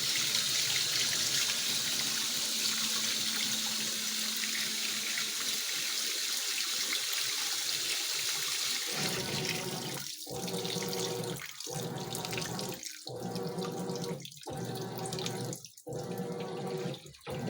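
A GE washing machine fills with water, a steady rushing stream that continues under a rhythmic series of sloshing, gurgling pulses as the drum takes on more water, close and fairly loud.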